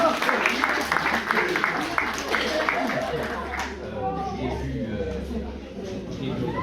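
A live audience applauds and cheers a choir at a Franco-Burundian entertainment event, steady clapping and crowd chatter with a voice talking over it, fading slightly toward the end.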